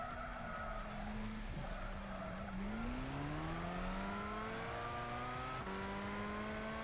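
Race car braking hard into a corner in Gran Turismo 6 on PS3, tires squealing and skidding in long wavering tones while the engine drops and then revs back up, fairly loud and continuous.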